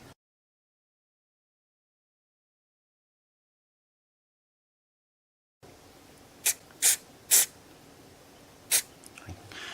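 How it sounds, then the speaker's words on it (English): Glue is sprayed while mandolin purfling is reinstalled, giving four short, sharp hissing puffs close by after a long stretch of silence. "if I could just hit the spot I'm aiming for with the spray"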